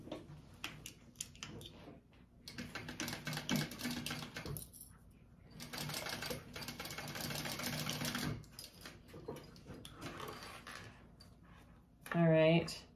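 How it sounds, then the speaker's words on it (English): A sewing machine stitches along a folded fabric edge on a bag in several close bursts of rapid needle clatter separated by pauses, with a voice speaking intermittently between and over the runs. "I'm going to sew along this folded edge here at a 3/8 inch"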